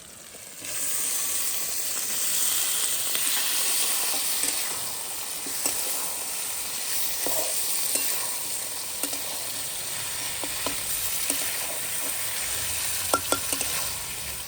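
Chicken pieces dropped into hot spice paste of onion, garlic and ginger, frying in a village kitchen: a steady, close sizzle and hiss throughout, with occasional light stirring clicks and no talking.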